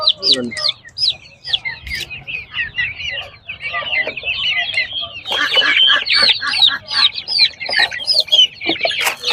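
Chickens cluck and crow in a busy wholesale poultry market where turkeys are also sold, dense overlapping bird calls continuing throughout with voices murmuring underneath.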